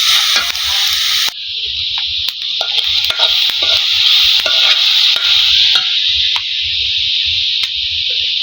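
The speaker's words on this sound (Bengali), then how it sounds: "পরিমাণ মতো চিনি এবং নারকেল কোড়া দিয়ে ভালোভাবে মিশ্রণটি নাড়াতে হবে" Sugar and grated coconut being stirred together in a pot for a palm-fruit pitha: a steady, close sizzling hiss runs throughout, broken by scattered sharp clicks of the spoon against the pot, with no voices.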